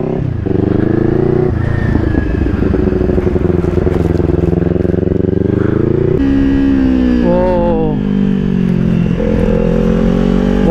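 Kawasaki Ninja 400 motorcycle ridden with a rear tyre in poor shape, its engine loud and close, revving up and down through shifts with a droning, rising and falling whine.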